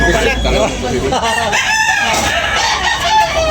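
Roosters crow loudly amid a noisy crowd at a rainy chicken market, with several birds calling and overlapping while people talk and haggle close by.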